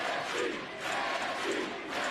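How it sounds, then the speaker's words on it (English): A wrestling arena crowd at NXT Halloween Havoc chants in unison, a loud, rhythmic roar of many voices rising and falling in repeated pulses. "But this crowd chanting NXT, rightfully so."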